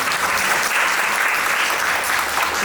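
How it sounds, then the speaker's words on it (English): An audience applauds a panel at a Juneteenth program, a loud, sustained roar of many clapping hands that stays full and even for the whole stretch, with no speech over it. "I just want to give the panel another round of applause"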